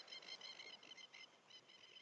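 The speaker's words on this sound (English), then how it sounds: "These birds are a bit loud." Birds sing at sunrise in a series of bright, repeated chirps and trills, close but fairly quiet, with no talking.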